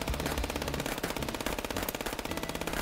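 Rapid automatic gunfire from the game Chess with Guns hammers in a continuous, evenly spaced stream of shots, loud and close, with no voices over it.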